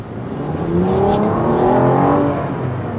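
A Bentley Bentayga luxury SUV accelerates while merging into traffic, its engine note climbing smoothly through the gears as a loud, steady whir that peaks mid-way and eases slightly, heard alone without talk.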